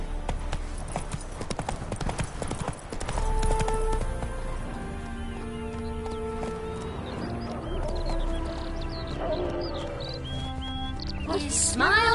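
Horse Roach galloping in a video game, steady hoofbeats running throughout at moderate volume amid ambient game sound, with voices and music-like tones layered over them.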